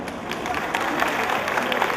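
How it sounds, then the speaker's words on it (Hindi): A large crowd at a teachers' honour ceremony and cultural evening applauds loudly to welcome the chief guest, a minister. The clapping is dense and continuous, with some crowd noise mixed in. "आप सभी से निवेदन करना चाहेंगे जोरदार तालियां बजाकर।"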